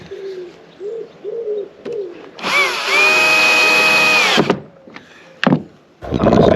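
A power drill drives screws into the hull of a boat under repair, whining loudly in one sustained burst of about two seconds, with a short second buzz afterward. Birds coo faintly in the background before it.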